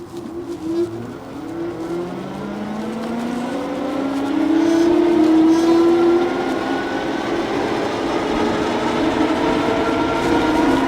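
A LAZARA RS1 electric bike coasts downhill under twist throttle, wind roar and rolling tire noise building steadily with a rising motor whine, loud and close throughout with no talking.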